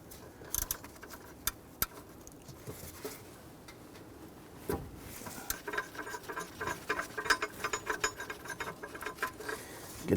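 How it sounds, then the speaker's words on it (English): Ratchet with a small extension and 15 mm socket working a nut under a bracket on a power steering pressure hose of a 2007-2014 Cadillac Escalade 6.2L V8; close, rapid clicking pawl bursts, quiet at first, then denser and louder. "we're going to use our small extension 15 mil socket"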